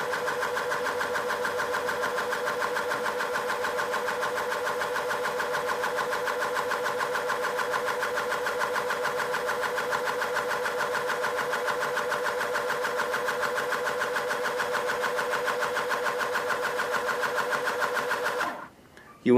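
The electric pump of a WIKA Mensor Wally Box III portable pressure calibrator hums steadily with a fine rapid buzz for about eighteen seconds, close and even, then cuts off abruptly near the end.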